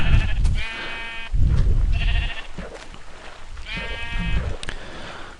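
Sheep in the Minecraft video game bleat three times in quick succession, loud and close, each cry a short wavering call with brief pauses between.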